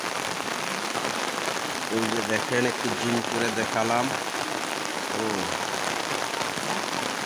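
Heavy rain pours onto a flooded street where the water has risen nearly knee-deep, making a dense, steady hiss throughout while someone talks over it in the middle of the clip.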